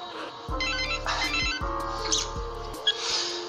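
A telephone rings close by in repeated electronic trilling bursts, each with a low buzzing undertone, over faint background sounds and with no voices.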